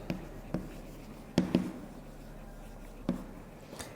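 Pen or chalk writing during an English grammar class, a sparse run of short taps and strokes spaced irregularly, quiet and close, with faint talk in the background.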